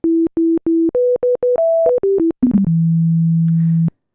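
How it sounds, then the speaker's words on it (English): A plain sine-wave patch on a Yamaha Reface DX synthesizer plays a short stepped run of clean, pure tones, several brief repeated notes rising and falling, then one long low held note; loud and close with nothing else heard. "simple sine wave."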